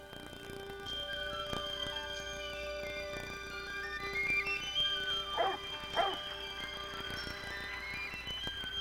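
Several dogs bark and yap in the distance, a scattered chorus with a couple of sharper yelps near the middle.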